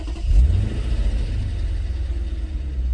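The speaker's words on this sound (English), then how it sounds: "I'm gonna actually open the door so you can guys hear the exhaust" A warm 2009 Lexus IS-F V8 fires up with a strong low exhaust burst, then settles into a deep, throbbing idle rumble, heard close with no voices.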